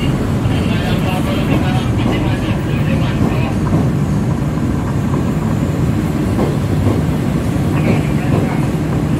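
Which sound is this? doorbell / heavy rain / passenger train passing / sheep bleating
passenger train passing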